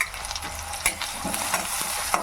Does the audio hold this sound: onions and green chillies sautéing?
yes